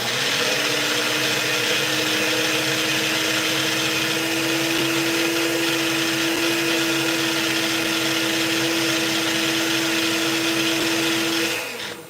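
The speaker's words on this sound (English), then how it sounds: "probably should put it in the other blender" A kitchen blender runs steadily and loudly for about eleven seconds with a constant motor whine, then cuts off abruptly near the end.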